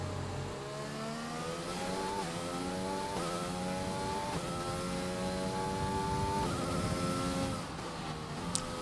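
Mercedes race cars on a simulated Austrian circuit drone with rising and falling engine revs as gears shift, a continuous loud mechanical whine with no voices.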